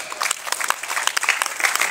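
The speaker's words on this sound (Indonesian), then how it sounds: "Tepuk tangan Bapak Ibu sekalian." Brief burst of audience applause during a Hindu religious talk, a mix of many hands clapping close and steady.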